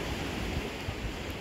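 Sea waves wash at Saidia beach in a steady, soft, continuous rush of surf with some wind noise, faint and even throughout, with no voices.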